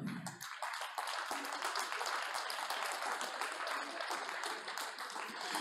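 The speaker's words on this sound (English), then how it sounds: "So applause for the winners." Audience applause for contest winners at an ITS Future Champion awards event, a steady wash of clapping at moderate level that fills the whole stretch after a brief low thump at the start.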